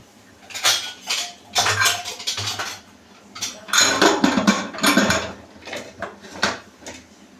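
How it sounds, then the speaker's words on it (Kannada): A pressure cooker being closed after dal and vegetable khichdi ingredients and water go in, heard as a run of close metallic clanks and scrapes of the lid and pot, in separate bursts, with no talking. "ಇವಾಗ ಕುಕ್ಕರ್ ಕ್ಲೋಸ್ ಮಾಡ್ತೀನಿ."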